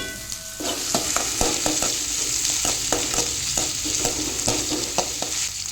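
Onions sautéing in a pan under steady frying sizzle, with rhythmic scraping clicks from a spoon stirring them every half second or so, close and fairly loud throughout.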